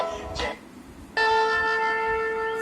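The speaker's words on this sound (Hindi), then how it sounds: "शंख की ध्वनि।" A conch shell is blown after a Hindu devotional aarti for Ganesh, a long steady horn tone starting abruptly and holding loud, preceded by a brief fading sound.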